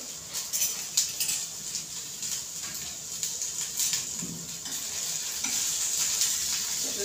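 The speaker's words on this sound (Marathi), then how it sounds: "तिला थोडंसं नॉर्मल असे डाग येईपर्यंत आपल्याला अशी भाजायची आहे" Ivy gourd (tondli) pan-roasting for a Marathi bhaji, with a steady close sizzle and crackle of frying, stirred now and then with soft scraping, continuous and without talk.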